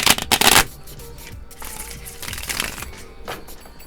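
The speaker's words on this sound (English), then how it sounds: "the card shuffling can get loud too." Playing cards are shuffled nearby in several quick riffled bursts, loudest at the start, followed by softer crinkling and shuffling handling sounds, with no talk.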